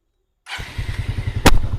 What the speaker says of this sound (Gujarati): એક જ સેલ્ફે ગાડી સ્ટાર્ટ થઈ ગઈ છે અને એન્જિનનો અવાજ તમે સાંભળી શકો છો